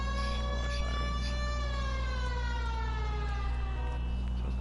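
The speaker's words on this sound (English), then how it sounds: "I'm gonna turn on my lights, my sirens" Police car siren in the video game L.A. Noire, a loud continuous wail with sweeping rising and falling tones over a steady low engine drone, with no talk.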